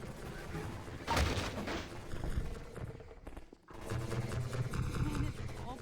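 Combine artillery fire in Half-Life 2 VR: loud, booming broadband blasts with a strong burst early on, then rumbling impacts and continuous battle noise throughout.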